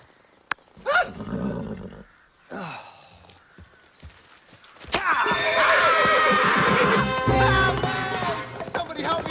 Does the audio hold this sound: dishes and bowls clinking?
no